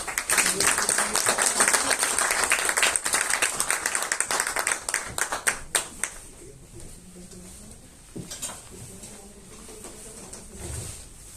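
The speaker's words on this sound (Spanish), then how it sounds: "Por lo tanto, démosle un cálido aplauso" Warm applause from a lecture audience, dense clapping that thins into scattered claps after several seconds, followed by quieter room sounds and a few voices.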